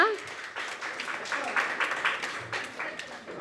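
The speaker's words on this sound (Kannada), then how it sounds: "ಗಟ್ಟಿಯಾಗಿ ಕೈ ಚಪ್ಪಾಳೆ ತಟ್ಟಿ ಅಭಿನಂದಿಸೋಣ." A crowd claps steadily in a dense patter of applause at an awards ceremony, continuing throughout.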